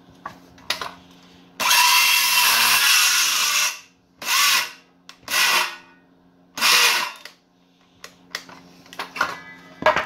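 A power saw cuts into a 2x4 in short, loud bursts: one long whining cut of about two seconds, then several briefer cuts separated by quiet pauses and small clicks.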